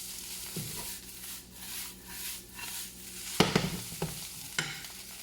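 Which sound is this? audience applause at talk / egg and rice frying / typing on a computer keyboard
egg and rice frying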